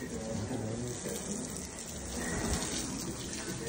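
Water runs steadily while a couch is washed, a continuous loud gushing spray close by that fills the whole stretch without pause.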